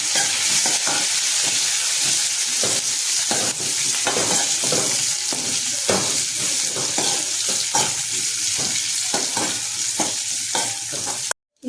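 Garlic cloves and green chillies fry in a pan for a chicken liver gravy, giving a steady loud sizzle throughout with repeated stirring scrapes and clinks, no talk.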